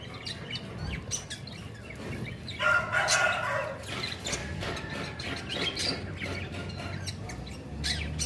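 A desi rooster crows amid a busy outdoor poultry setup, one clear crow standing out over steady background chirps and rustling from other birds.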